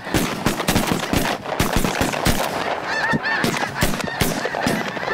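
Geese honk loudly and repeatedly at close range during a duck and goose hunt, a dense overlapping chorus of calls with sharp gunshot-like bursts mixed in, no talking.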